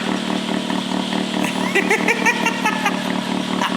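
A modified motorcycle engine idles steadily with a muffled, low rumble and slight clatter, holding a near, even level for the whole stretch with a few faint throttle blips midway.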